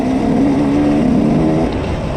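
A motorcycle fitted with a new single-ring piston cruises gently after warming up, its engine holding a steady droning hum close by with a slight easing in pitch near the end.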